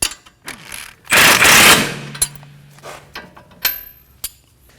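Bolt on a front alignment camber kit of a 2011-2016 Kia Optima being tightened with a power tool, a loud burst of rapid impacts lasting under a second, followed by a few sharp metallic clicks and knocks nearby.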